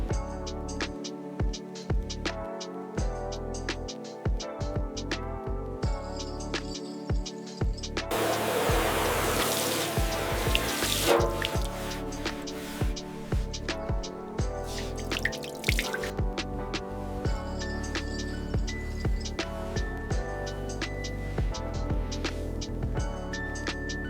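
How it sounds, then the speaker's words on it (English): Pressurized water stream rinsing foam off the metal of an abandoned 1955 Harley Panhead motorcycle, heard as intermittent splashing and drips with a stronger continuous spray burst in the middle. "We use a pressurized stream of clean water to gently wash away the foam"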